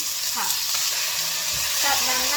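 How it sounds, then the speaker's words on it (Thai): Carrot stir-frying in a pan with aromatics as the start of a Bolognese sauce, a loud continuous sizzle close by with light scraping of the spatula and no talking. "แล้วก็ผัด ส่วนผสมสามตัวนี้นะคะ สักครู่นึงให้หอม"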